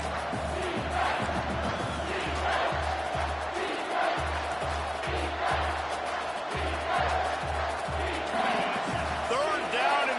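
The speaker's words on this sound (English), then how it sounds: "noise level is relentless here on second down." Crowd roaring in a college football stadium during an Alabama versus Texas game, a loud sustained wall of cheering and noise on a second down, with a commentator talking over it.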